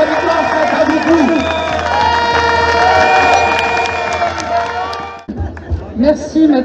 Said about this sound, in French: Continuez de les applaudir.